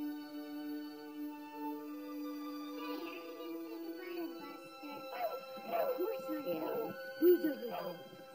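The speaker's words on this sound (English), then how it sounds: "Who's a good doggy?" A cartoon dog in an animated film whimpers and gives short yips, fairly faint, under and between people talking.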